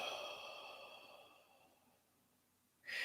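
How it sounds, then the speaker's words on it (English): A long, slow exhale during a guided meditation, breathy and fading gradually over a few seconds, close and soft, followed by a brief sharp intake or sniff at the end; no talking. "Another deep breath."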